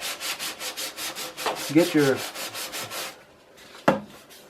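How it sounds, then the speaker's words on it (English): Hand sanding along the grain of a wooden model boat's Draketail hull makes a rhythmic series of close, soft rasping strokes that stop after about three seconds, followed by a few quieter scrapes and a brief word spoken. "Always sand with the grain. So on the Draketail you're sanding up and down."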